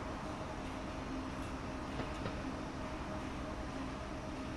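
An ICE train in Train Sim World 5 on the Frankfurt–Fulda line, heard from inside as a steady, dense running rumble with a faint tonal hum and a couple of light clicks.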